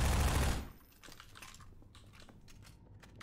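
Gunfire in the shooter game Half-Life 2: a loud burst of shots at the start cuts off quickly, followed by scattered fainter clicks and pops over low background noise.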